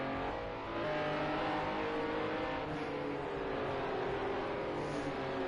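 Pro race car lapping a track in a league final round, a continuous engine drone with rising and falling revs, moderately loud and steady across the whole stretch.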